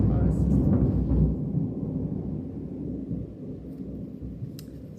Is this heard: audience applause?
no